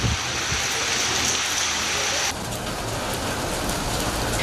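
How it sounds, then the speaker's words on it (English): Heavy rain pours in Colombo, Sri Lanka, a dense, loud, continuous hiss of drops striking surfaces. The tone shifts slightly midway, and no voices are present. "Heavy rains also battered Colombo on Tuesday morning."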